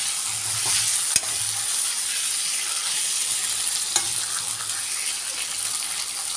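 Potatoes sautéing in a pan for a lunch-box dish, giving a steady close sizzle throughout with a couple of sharp spoon knocks against the pan while stirring.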